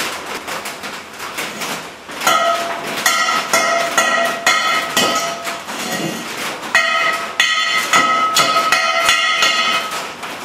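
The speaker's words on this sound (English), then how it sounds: "I'm going to get a hammer and knock that slag off so it'll be easier to weld" Sharp metallic hammer blows ring out in quick irregular bursts, knocking weld slag off metal up close, with brief pauses between volleys.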